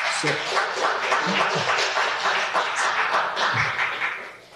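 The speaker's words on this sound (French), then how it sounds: "Je voudrais appeler notre frère Mathieu Ling sous vos applaudissements" A church congregation at a Sunday service in Gatineau claps in warm, even applause for a few seconds, a moderately loud wash of many hands with faint voices underneath.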